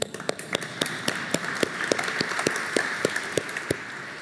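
A lone person clapping for an audience at a lecture, a regular series of sharp, close hand claps at an even rhythm over a quiet room tone.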